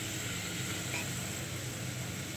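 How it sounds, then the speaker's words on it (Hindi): Cluster beans (gavar fali) are stirred and fried in oil inside a pressure cooker, giving a close, steady, even sizzle with a soft hiss throughout and no talking. "ये देखिए, इसे अच्छे से मिक्स कर लेंगे।"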